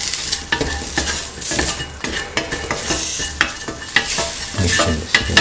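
Spices being stirred into a simmering mung bean, ivy gourd and coconut milk stew, a utensil scraping repeatedly through the pot over a steady sizzle, close and moderately loud with no talking.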